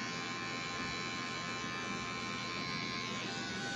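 Electric hair clippers set to a low guard, buzzing steadily and close up as they trim a marked line during a blurry-fade mohawk haircut, a continuous motor whine with no talk.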